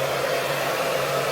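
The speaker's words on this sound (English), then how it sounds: "I need to stop dilly-dallying and blow dry my hair." A hair dryer blowing on hair, a loud, constant whooshing roar with a steady motor hum, close by and with no voices.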